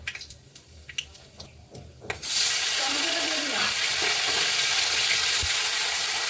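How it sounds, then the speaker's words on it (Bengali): Bay leaf, whole garam masala and cumin seeds hit hot oil in a pan, bursting into a loud, steady sizzle that starts abruptly after a few quiet kitchen clatters and fries continuously to the end. "তেজপাতা, গোটা গরম মশলা আর গোটা জিরে ফোড়ন দিলাম"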